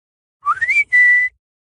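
R2, the droid, gives two short whistles in quick succession: the first a jaunty rising sweep with a wobble, the second a steady high tone, clear and alone against silence.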